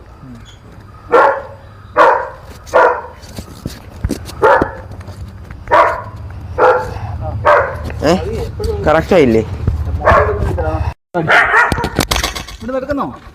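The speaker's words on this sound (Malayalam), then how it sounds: "ഒരു പട്ടി, 2 പട്ടി, വേറൊരു പട്ടിയുടെ കാണണം" A dog barks repeatedly in a steady series of loud, evenly spaced barks, with someone speaking briefly near the end.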